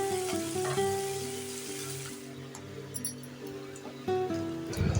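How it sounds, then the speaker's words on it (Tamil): Finely chopped medium onion sautés in hot oil with mustard seeds and urad dal for a banana-stem kootu, a steady close sizzle with occasional faint clinks of a stirring utensil. "அதில் ஒரு மீடியம் சைஸ் வெங்காயத்தை பொடியாக நறுக்கிட்டு அதையும் சேர்த்துக்கலாம்."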